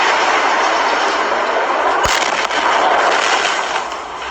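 Loud, roaring blast and rumbling explosions at the port of Beirut, a sustained broadband roar with a sharp crack about halfway through, heard from a distance and fading slightly at the end.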